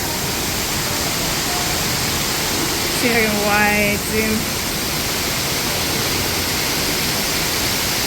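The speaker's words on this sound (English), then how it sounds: "It's a cave waterfall." Waterfall roaring steadily inside a cave on a park trail, a constant broadband rush filling the whole clip, with a brief spoken remark partway through.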